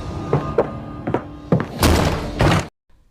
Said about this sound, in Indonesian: Pintu terbuka, dan itu adalah Sultan Murad